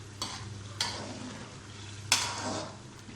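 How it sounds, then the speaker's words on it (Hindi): Chitrali biryani masala frying in a pot, a low steady sizzle with three sharp stirring scrapes spaced through the short stretch, close and moderately quiet. "इसको 5 से 10 मिनट और फ्राई करूँगी।"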